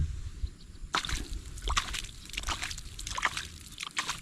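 Irrigation water seeping and soaking into a farm field, with soft sloshing, squishy trickles and drips that come close and low in level, starting after a brief quiet moment.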